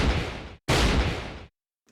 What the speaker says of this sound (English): That sounded like a gunshot.